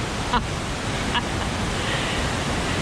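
Broadband rushing water roars steadily from the El Chiflón waterfall in Chiapas, Mexico, with a couple of faint clicks near the start.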